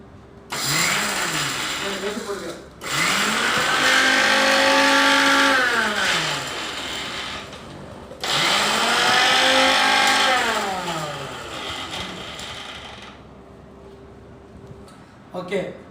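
Kitchen mixer grinder blending arugampul grass, two long loud whining runs with pitch sweeping up and down as the motor starts and stops, separated by short pauses and fading to quiet at the end.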